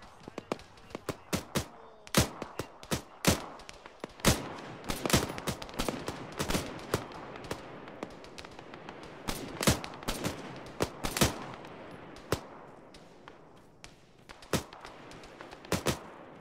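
Gunfire rings out during a military exercise: many sharp shots, some single and some in quick bursts, scattered irregularly across the whole stretch at varying distances, with faint voices underneath.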